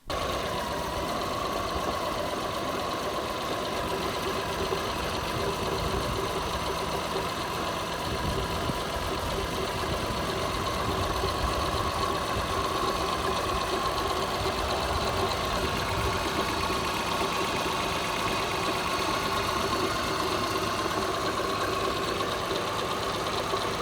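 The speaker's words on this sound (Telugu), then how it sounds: "సో మీకు ఇప్పుడు ఇంజిన్ సౌండ్ అయితే వినిపిస్తాను." A Maruti Suzuki 800 car engine idling steadily, with a constant mid-pitched hum and faint knocking pulse that stays even for about twenty-four seconds without any talk.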